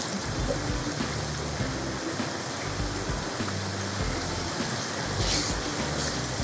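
River water rushing steadily in Vilcabamba, Ecuador as someone gets in to swim, a dense continuous splashing flow heard up close with no talking.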